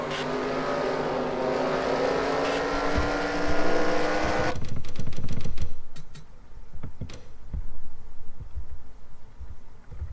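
Race car engines roar in a NASCAR-style racing video game, a loud sustained high drone that cuts off abruptly midway into quieter, rattling engine noise and tire sounds.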